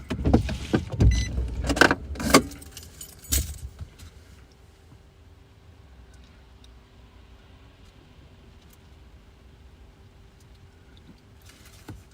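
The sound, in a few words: car windshield wipers running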